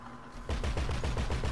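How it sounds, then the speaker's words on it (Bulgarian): Rapid automatic gunfire in GTA 5 Online, a dense burst of rhythmic shots starting partway through and continuing loud and close to the end after a quieter lead-in. "Некой стреля ли, бе?"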